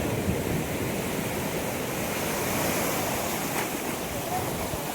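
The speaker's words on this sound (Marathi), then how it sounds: "सगळे असे रॉक सध्या जसं पाणी आपटतं बघा असं थाप थाप थाप थाप" Sea water washes and slaps against rocks on Khavane Beach, a steady broadband wash of surf lasting throughout at moderate loudness with no clear individual impacts.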